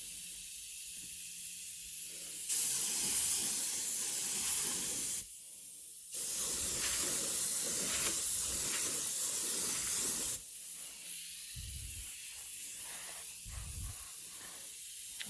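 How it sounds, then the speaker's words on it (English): A mini spray gun sprays paint for a spot panel repair on a rusted, taped-off area, giving a loud steady hiss in long bursts of several seconds with short pauses between them. "I'm using a mini spray gun for spot panel repair"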